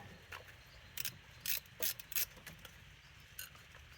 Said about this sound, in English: I'm just going to have to do the 1/4-inch drive ratchet with that guy